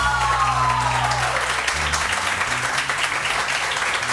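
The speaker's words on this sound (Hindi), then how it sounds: "बहुत सारी तालियां।" A morning-show studio audience gives sustained applause for a guest, a steady close wash of clapping lasting throughout, with low music tones under it in the first couple of seconds.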